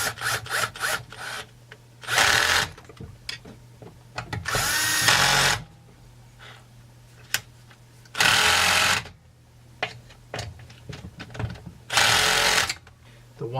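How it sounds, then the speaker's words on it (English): Repeated short bursts of a power tool tightening the oiler bolts on a Husqvarna 372XP chainsaw, several whirring runs of about a second each separated by clicks and handling noises, with a steady low hum underneath. "Now we just need to cinch up the oiler bolts, and hopefully now we don't have a leak."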